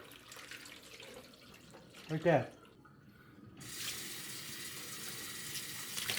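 Cooked green beans are tipped into cold water in a kitchen, giving a brief splashing pour of about half a second, followed by a steady running-water hiss; a voice speaks briefly near the start.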